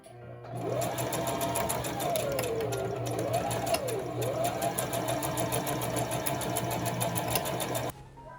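A sewing machine runs steadily for about seven seconds, stitching together pairs of patchwork fabric squares for a cloth pouch. A continuous whirring drone holds with shifting motor tones, then stops abruptly near the end.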